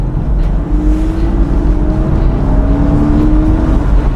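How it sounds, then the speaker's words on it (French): A Porsche Boxster 986 flat-six engine pulls under acceleration, heard from inside as a loud, steady low drone with a slowly rising tone throughout. "j'entends réellement le flat 6 chanter"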